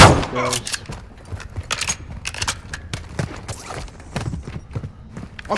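Scattered incoming gunfire cracks and distant shots in a military video game, irregular and mixed with radio-style voices talking.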